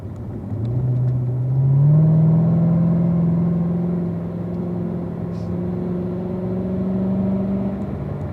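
A car's engine accelerating on a race track with a Michelin bridge over turn 1, a steady mid-pitched drone that climbs in pitch and holds loud and close, with no talk over it.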